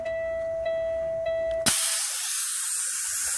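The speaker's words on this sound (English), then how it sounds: "The air came out." Compressed air bursts out loudly from a semi truck's air brake valve as the trailer is dropped, a sharp onset followed by a steady, broad hiss that carries on to the end, after a tone-like background hum.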